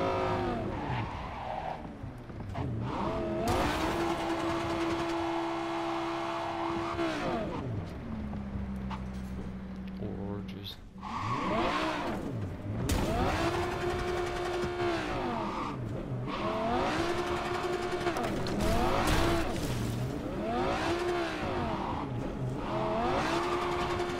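A car drives in Cyberpunk 2077, its engine note rising and falling in repeated revving sweeps, with tire squeal and skidding. The sound is loud and continuous, with a brief lull near the middle.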